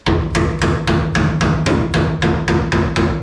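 A hammer taps a Holden HQ GTS lower rear quarter metal panel in an even rhythm, about ten sharp ringing strikes close by, each leaving a short metallic ring.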